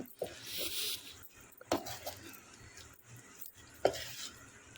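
Chili powder is stirred into cooled oil for tomato pickle. A spoon scrapes and clinks against the vessel with a few distinct knocks among soft, irregular mixing sounds, close and fairly quiet, with no speech.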